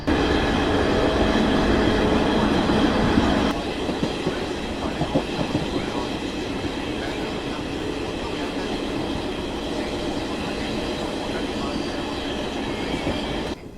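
The Yuva Express train runs on the Mumbai-Delhi line, crawling slowly in fog. From inside the carriage it gives a loud, continuous rumble with rattling and faint clickety-clack throughout.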